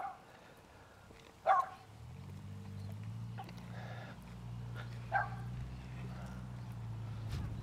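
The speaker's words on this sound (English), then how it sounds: "stopped her dog from barking. It's only a tiny little thing, but it's got a bit of a bark on it." A tiny dog barks outdoors in a Perth suburb, two sharp separate yaps over a low engine-like rumble and faint background noise.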